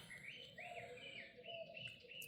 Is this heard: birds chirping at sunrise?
yes